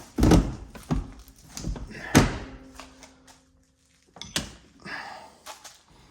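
Inside a rough Ford Ranger cab, a seat is worked back into place with several heavy thunks and knocks at irregular intervals, loud and close, with a short quiet gap midway.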